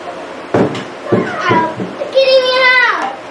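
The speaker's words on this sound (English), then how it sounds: "I think he's meowing" A cat meows, a drawn-out wavering cry near the end, following a few short sounds, with children's voices close by.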